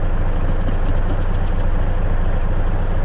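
A large, bright new tractor idles in Farming Simulator 22 on the Alma, Missouri map, giving a steady low engine rumble that holds evenly throughout with no talk over it.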